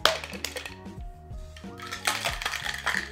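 A cocktail shaker filled with ice, gin, lemon juice and syrup is shaken hard, producing a dense metallic rattle of ice cubes that churns steadily for several seconds, close and loud, with tonal music underneath.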